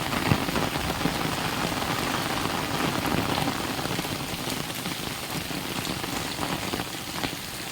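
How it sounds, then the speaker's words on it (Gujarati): Heavy rain pours down steadily, a dense, loud, unbroken hiss of drops hitting surfaces that holds at the same intensity throughout, with no voices. "અમને ખબર નથી કે આટલો બધો વરસાદ ચાલુ થઈ જશે"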